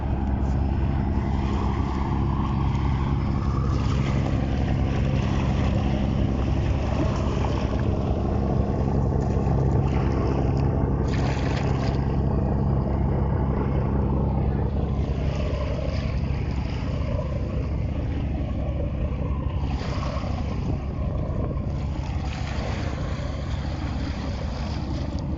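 The Karnaphuli-13 passenger launch ship moves along a river route near Mongla Sikdar launch ghat, giving a continuous loud engine drone and rushing wind and water noise that runs steadily throughout without pause.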